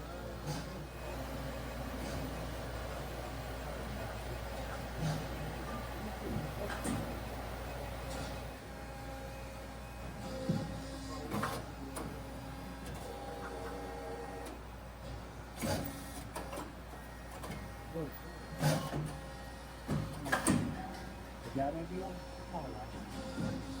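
An automatic machine in a model train factory runs steadily, making brake parts with a constant hum and periodic mechanical clanks and thumps, while someone talks over it.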